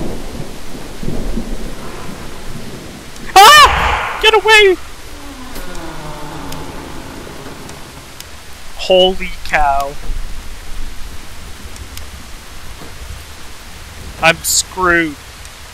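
Thunderstorm and steady rain in the horror video game Boogeyman, a constant hiss of rain running under the whole stretch, while a player shouts and exclaims in sharp outbursts over it.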